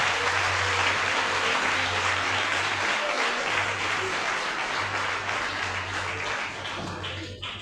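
A church congregation bursts into sustained applause, a dense, loud wash of many hands clapping that holds steady before easing slightly at the end.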